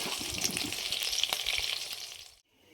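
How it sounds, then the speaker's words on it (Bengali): Spice-stuffed bitter gourds frying in a wok as they are stirred, a steady bright sizzle with occasional scrapes that cuts off abruptly near the end. "এবার আমরা উচ্ছেগুলোকে একটু নাড়িয়ে চাড়িয়ে তুলে নেব।"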